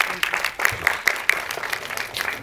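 Applause from a press-conference audience, a steady crackle of many hands clapping at moderate volume for a couple of seconds with no voices over it.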